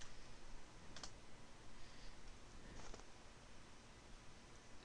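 Keys tapped on a computer keyboard while entering a command at a Windows command prompt, a few faint, sparse clicks over steady background hiss.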